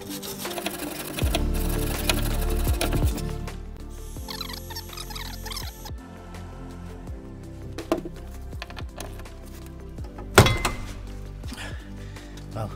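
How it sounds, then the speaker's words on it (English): Wire brush scrubbing a rusty nut and bolt on a Suzuki LJ80 during a floor pan repair, a run of close, rapid scratchy strokes with clinks and knocks of metal between them, plus one sharp bang near the end. "we're going to get a quick clean with a wire brush, and then we're going to get the mini inductor on it."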